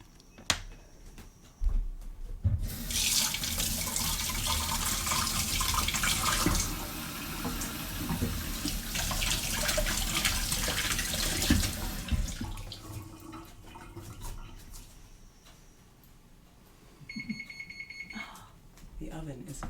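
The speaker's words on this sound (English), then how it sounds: "wash the eggs off my fingertips" Water runs from a kitchen tap as fingertips are rinsed clean of egg while baking cookies, a steady broadband rush lasting about ten seconds before it shuts off, followed by quieter kitchen handling sounds.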